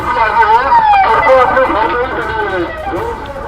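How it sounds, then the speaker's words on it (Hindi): Officials' vehicles announcing a curfew over a loudspeaker during unrest in Haldwani, a loud amplified voice echoing through the street with wavering tones, crowd noise faintly underneath. "इस तरह से गाड़ियां जो है अधिकारियों की अनाउंस कर रही हैं कि इलाके में कर्फ्यू है,"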